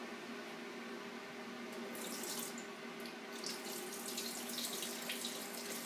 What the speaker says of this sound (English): And now I'm going to pour the water out.